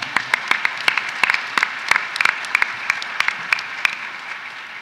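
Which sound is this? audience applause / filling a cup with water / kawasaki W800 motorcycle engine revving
audience applause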